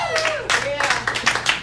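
Audience at a stand-up comedy show clapping for the comedian, quick bursts of claps mixed with crowd voices and cheering over a short stretch.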